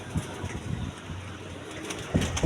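Pigeons cooing in an outdoor loft, low soft coos repeating close by under wind noise, with a few scattered bird calls and no speech.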